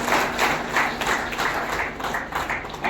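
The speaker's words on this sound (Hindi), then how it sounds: "जोरदार तालियों से उनका स्वागत करते हैं" Loud audience applause welcoming a guest at a farewell function for a district education officer, dense clapping held steady through the whole stretch with no one speaking over it.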